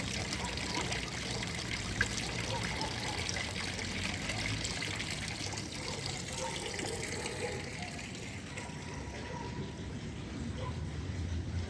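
Water flows at the Muradiye complex in Bursa, a continuous soft trickle and splash like a fountain or tap running steadily, fairly faint with low background murmur throughout.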